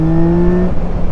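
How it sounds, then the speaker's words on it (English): A 2024 Yamaha MT-09 inline-triple motorcycle engine holds a loud, steady high-rev howl up close, then drops off sharply near the end. "And I love that intoxicating howl of a triple."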